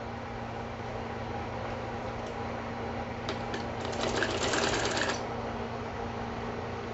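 A sewing machine runs a short, faint burst of rapid stitching for the final seam on fabric. A steady background hum sits under it, and the room is otherwise quiet.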